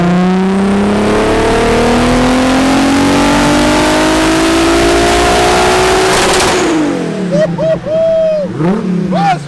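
A turbocharged engine in a cheap project car on a dyno makes its first pull, a loud rising rev that climbs for several seconds, then drops off with a hiss. Short revs and voices follow.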